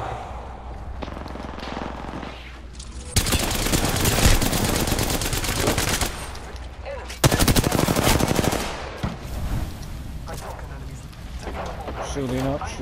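Automatic weapons fire in the battle-royale game Apex Legends: loud, close, rapid bursts of gunshots that come in long sustained volleys, with short pauses between them and a voice in the background.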